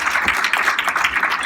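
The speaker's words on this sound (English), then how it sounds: "Give yourselves another big round of applause." Audience applause at an annual homeless count event, a dense, loud wash of many hands clapping steadily throughout with no talk over it.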